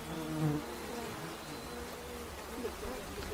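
Chinese honeybees swarm around their hive, a steady close buzzing drone of many insects that holds evenly throughout with no clear voices.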